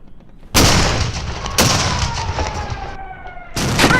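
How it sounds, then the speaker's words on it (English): Ship's cannons firing solid shot in a radio drama battle: three heavy booms, each a sudden loud blast with a rumbling tail, the last cutting in near the end, with a faint whistling tone between them. "Gun deck, prepare to fire, solid shot only."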